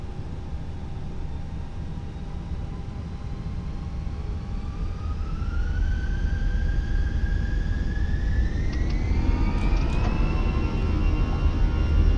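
Airbus A320 jet engines spool up for takeoff in a flight simulator game, a steady roar under a whine that climbs in pitch and grows gradually louder.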